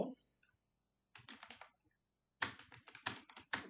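A prompt is typed on a computer keyboard in two close bursts of quick, crisp key clicks, the second longer and louder, separated by a brief silence.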